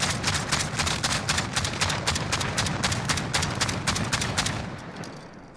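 Fostech Origin-12 semi-auto shotgun in Call of Duty: Modern Warfare fires a long, rapid string of around two dozen loud, booming shots in steady succession, then stops, leaving a brief fading tail.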